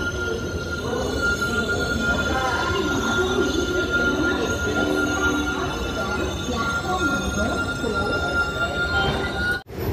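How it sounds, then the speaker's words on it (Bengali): The Jagannath Express, running from Shalimar to Puri, pulls into Cuttack station with loud continuous rumbling and squealing wheels, a dense wash of train noise under chatter, ending in a sharp clunk. "তো বন্ধুরা ট্রেন আমাদের চলে এসছে উড়িষ্যার কটকে।"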